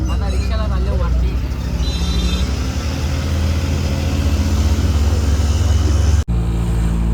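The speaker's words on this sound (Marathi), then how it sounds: "आता रिक्षाला चाललो वरती." An auto rickshaw engine drones steadily as it climbs uphill toward a temple, a loud continuous low rumble with people talking over it, then a brief cut near the end.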